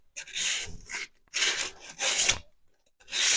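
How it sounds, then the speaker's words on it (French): Rasping scrapes on the rear brake drum of a Renault Mégane 1, four steady strokes separated by brief pauses, close and clear with no talking. "Hop, donc là, je gratte."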